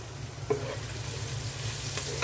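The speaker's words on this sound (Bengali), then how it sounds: "পেঁয়াজের সাথে মশলাগুলো ভেজে দিচ্ছি" Sliced onions frying in a pot with whole spices like cinnamon, cardamom and bay leaves, a soft steady sizzle with a couple of spoon-against-pot scrapes, close and fairly quiet.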